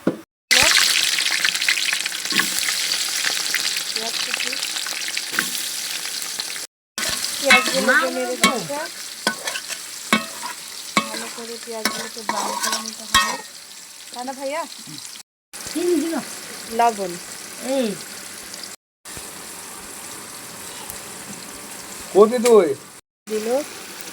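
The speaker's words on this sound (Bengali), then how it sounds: "তেল দিয়ে দিল ভাইয়া গরম মশলাগুলো দিয়ে দিল তেজপাতার সঙ্গে" Whole spices and bay leaves fry in hot oil in a pot over a clay stove while beef is being cooked. A loud steady sizzle opens the clip, then lighter sizzling continues under people talking.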